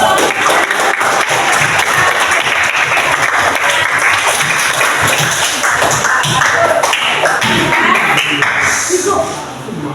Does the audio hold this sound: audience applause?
yes